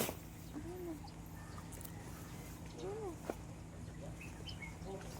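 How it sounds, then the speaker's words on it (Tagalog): Crows caw a few times, faint and distant, over a steady low background hum on an island beach at sunset. "Dami namang uwak dito."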